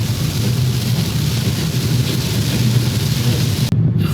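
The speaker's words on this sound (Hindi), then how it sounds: "भगवान ने एकदम छम छम करके बारिश यहाँ पे भेज दी है" Rain drums steadily on a car travelling the road between Ahmedabad and Sarangpur, a dense unbroken hiss over a low engine and road rumble, with no voices.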